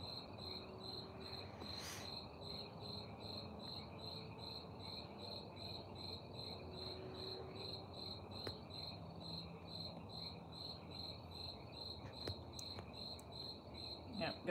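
Crickets chirp in a forest at night, a steady high pulsing trill that carries on throughout, fairly faint, with a few brief clicks and rustles nearby and no voices.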